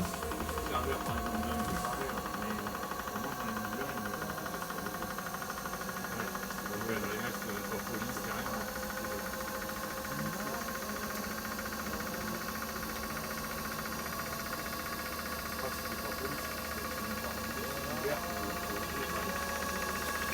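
A motor runs steadily at about 900 rpm during an oil-bath break-in, with a constant low hum and faint rhythmic knocking, droning on without change; a voice speaks quietly underneath.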